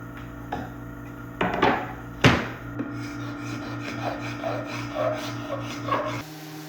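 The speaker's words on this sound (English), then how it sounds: "I scraped and sanded the shelves." Wooden shelves are scraped and sanded by hand: raspy strokes come close and moderately loud, a sharp scrape stands out among them, and a steady low machine hum runs underneath.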